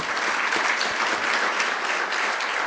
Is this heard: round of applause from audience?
yes